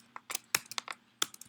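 Several sharp key clicks from a computer keyboard as a short note is typed, irregular taps close and fairly quiet over a faint steady hum.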